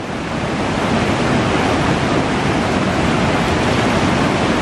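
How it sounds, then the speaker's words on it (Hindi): Waves of the Ganges river in the Himalayan foothills, a loud, steady, unbroken rush of churning water with wind noise throughout and no voices. "अभी तो आप गंगा जी का आनंद लीजिए, इनकी लहरों का आनंद लीजिए।"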